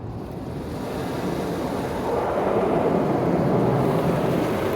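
Water spraying steadily in an automatic car wash, a continuous broad rushing hiss that grows slightly louder and fuller midway, heard from inside the car.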